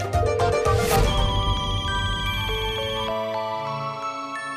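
A phone ringtone plays loudly for a few seconds in a domestic drama scene, a bright melodic tone with sustained notes and no voices over it.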